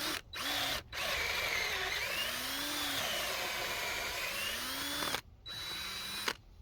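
A battery drill bores into wood for a fence brace, its motor whining steadily with pitch dips as the bit loads, stopping briefly several times between bursts, close and loud with no talk.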